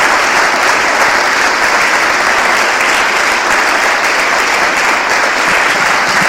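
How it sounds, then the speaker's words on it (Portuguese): A church congregation claps steadily through a worship service, dense sustained applause filling the room at high volume with no break. "Dá uma salva de palmas a Jesus."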